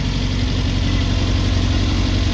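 A car engine running roughly idles loudly and steadily up close, a rough, rumbling drone with no break for the whole stretch.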